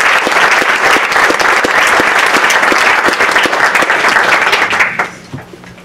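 A large audience applauds warmly in a lecture hall, steady dense clapping for about five seconds before it quickly dies away to quiet.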